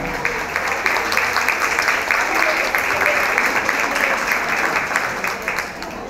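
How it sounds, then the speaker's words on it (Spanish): An audience claps after a talk in a lecture setting, a dense, even burst of applause that holds steady for several seconds before easing off slightly at the end. "les invito a darle a Beatriz un fuerte aplauso."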